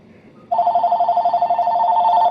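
A telephone rings indoors with a loud, rapid electronic trill that starts abruptly and repeats steadily for about two seconds, with faint room noise before it begins.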